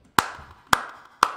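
Three sharp, evenly spaced hand claps sound close and loud, each with a short ringing decay, with no talk. The claps are a lone person's, not an audience's.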